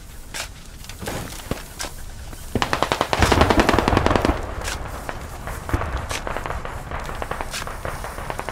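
A BMP-3M infantry fighting vehicle's mounted machine gun fires in the Squad video game on the Fallujah map, with loud rapid bursts and scattered shots over several seconds and a denser volley midway, mixed with distant gunfire.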